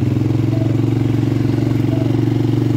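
Motorcycles ride slowly along the paths of Gò Vấp Cultural Park, a busy exercise park with a 5 km/h limit. A steady, close, mid-pitched engine drone runs throughout with light rattling, and no one speaks.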